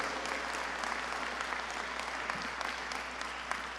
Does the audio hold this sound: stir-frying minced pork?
no